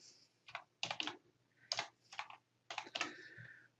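Typing on a computer keyboard, quiet close clicks falling in short bursts of several keystrokes with brief pauses between, no voices.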